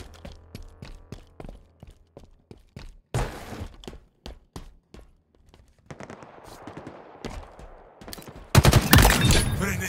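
Rapid gunfire from Halo Infinite multiplayer, a string of sharp repeated shots with short bursts and impacts, building to a loud, dense volley at the end with no talking.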